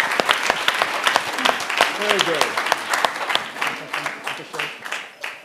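An audience at a talk bursts into applause, a dense patter of many hands clapping that gradually thins and fades, with a voice speaking briefly over it.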